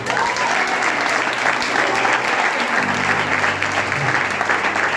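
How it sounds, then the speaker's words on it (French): An audience at a church lesson about Zacchaeus applauds in a dense, sustained burst of clapping, with a few voices mixed into the steady applause. "Acclamez pour Zachée."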